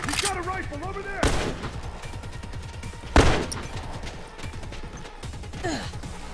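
Rifle gunfire in the video game Factions sounds as sharp shots and a loud crack among chaotic combat noise, with voices gasping and talking over the action.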